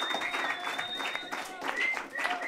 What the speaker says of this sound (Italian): Facciamo un altro applauso,